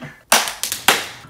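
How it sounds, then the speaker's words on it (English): Hands clap close and loud, four sharp smacks in quick succession with brief pauses between, alone without talk. "Clap and clap."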